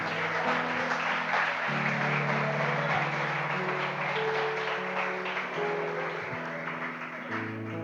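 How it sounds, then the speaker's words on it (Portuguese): Church congregation applauding the Lord during a Sunday service, with steady dense clapping mixed with crowd noise and a low sustained keyboard or organ tone underneath, held at an even level throughout. "Aplauda ao Senhor."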